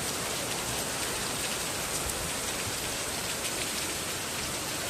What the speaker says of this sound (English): Oh, it's very heavy rain.